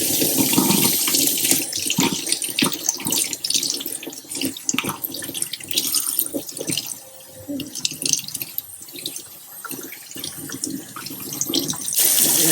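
Running tap water splashes into a sink while calamari pieces are rinsed by hand. The flow is steady and close, broken by uneven splashing and dripping.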